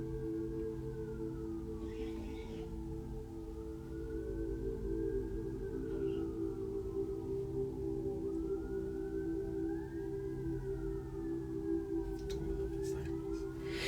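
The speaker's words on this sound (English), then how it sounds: "Can y'all hear the sirens?" A distant siren wails in long rising and falling tones over a low steady hum, persisting throughout without speech.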